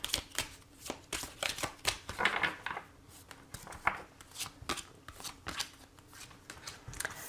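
Repeated crisp riffling and soft slaps of tarot cards being shuffled and drawn, close and fairly quiet, in uneven bursts with no speech.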